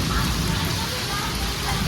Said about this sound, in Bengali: প্রচন্ড জোর বৃষ্টি পড়ছে